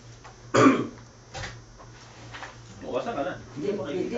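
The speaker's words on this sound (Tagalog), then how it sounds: "May ubo pa." A single sharp cough, quite close, is followed by softer throat sounds and then people talking quietly.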